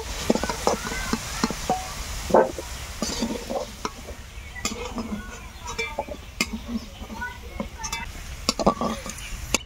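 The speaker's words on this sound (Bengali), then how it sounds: "এবার আলুগুলো নেড়ে চেড়ে ভেজে নেব ভালো করে।" Potatoes stir-fried in a pan with a pinch of turmeric for a village-style fig curry: a spatula scrapes and clinks against the pan in irregular strokes over a soft, continuous sizzle, close and moderately loud.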